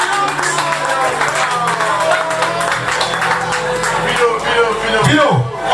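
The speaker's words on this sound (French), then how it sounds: "Mesdames et messieurs, on applaudit très très fort." An audience claps and cheers at a birthday party, dense continuous applause mixed with crowd babble and music, loud and steady throughout.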